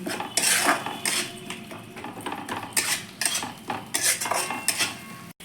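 A metal spatula repeatedly scrapes and clatters against a pan while spice paste of cumin powder, turmeric and salt is sautéed for a prawn curry, loud, close and rhythmic, with brief pauses between strokes.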